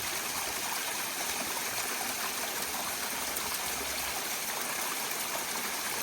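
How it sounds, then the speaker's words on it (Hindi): Mountain spring water flows steadily in a foggy hillside village, a constant close hiss and rush with no pauses and no voices. "spring water,"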